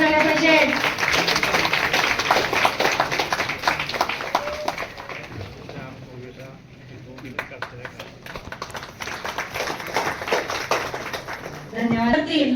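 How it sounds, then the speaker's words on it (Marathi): Clapping rolls through an audience at a public welcome ceremony for a foundation's gift-giving event, a steady patter that dips in the middle and swells again, with voices speaking near the start and end. "जोरदार टाळ्या झाल्या पाहिजेत"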